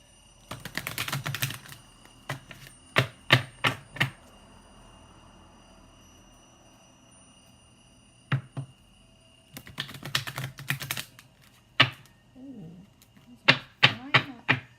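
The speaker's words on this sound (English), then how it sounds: "I hate that shuffling noise on camera." Bursts of crisp oracle card shuffling, riffling clatter in clusters with quiet pauses between, close up and fairly loud, no talking.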